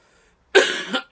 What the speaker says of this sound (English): Sorry, I've got a cough.